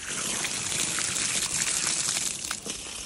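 Water gushes steadily from a pipe in a continuous, loud, hissing rush with no talk over it.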